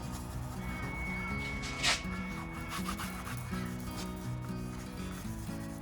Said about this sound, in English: So I'll get my trusty Scotch-Brite out and get rid of that shine.